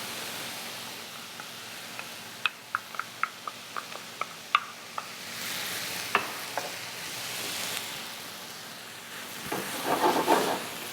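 Swiss chard simmering in a pan with tomato sauce, a soft steady sizzle and bubbling hiss with a string of sharp clicks and taps from a utensil against the pan, alone with no voices.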